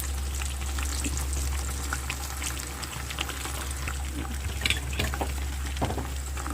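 Onions fry in hot oil for a curry, giving a continuous close sizzle with scattered crackles and pops over a steady low hum.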